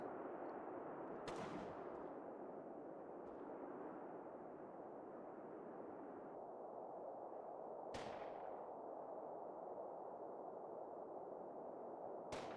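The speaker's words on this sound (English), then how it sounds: "Looks like they took a grenade and some gunfire and are now backing off." Distant gunfire and a grenade in the World War II strategy game Combat Mission Final Blitzkrieg, a few sharp cracks spread over a low rumbling battle ambience, faint and far, no talk.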